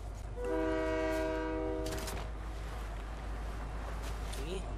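A Fortnite train sounds a long, loud, steady horn blast, then a burst of rail clatter, with rumbling movement continuing underneath.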